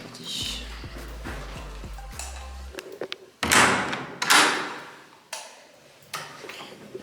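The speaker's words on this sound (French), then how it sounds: "donc ça c'est la porte d'entrée. Je vais fermer." An apartment front door is pulled shut, giving a rattle of the handle and latch, then a firm thud and clack, followed by a few lighter knocks and scrapes nearby, with no talking.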